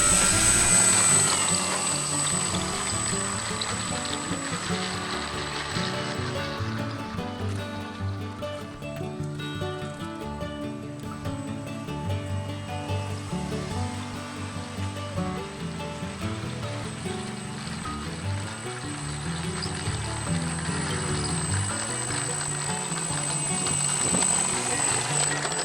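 A twin-motor ATR-72 600 RC model plane on a taxi test, its two electric motors giving a steady, loud, continuous whine and propeller drone that holds throughout with a slight swell at start and end.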